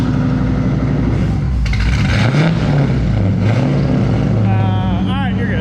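A car engine runs loud and close at a raised, steady high idle, with rumbling and some rise and fall in pitch. Voices are heard over it near the end.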